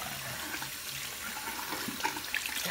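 Tap water runs steadily into a sink or tub while a cat is bathed, a continuous close splashing flow with a few brighter splashes near the end.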